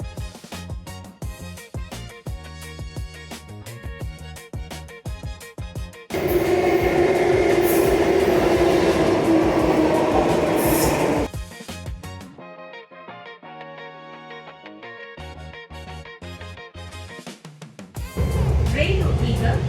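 A Bengaluru metro train runs between Majestic and Yelachenahalli stations. Its loud, steady rumble swells in two bursts, with quieter stretches of other sounds and voices between them.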